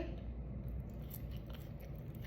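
Soft, close chewing of slightly soggy french fries, brief and quiet, with faint mushy bites and no speech.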